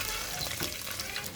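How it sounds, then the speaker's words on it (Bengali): A little water poured into a hot pan of frying onions for a Bengali fish curry with radish greens, eggplant and potato, giving a steady hiss and splashy sizzle over the short stretch. "পানি দিব অল্প পরিমাণ"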